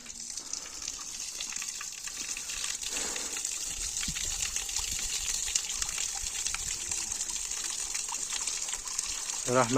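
Water gushing steadily from the taps of a newly opened water well, a constant loud rushing flow with voices heard now and then over it.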